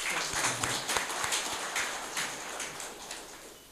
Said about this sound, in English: Let us please welcome him by an applause.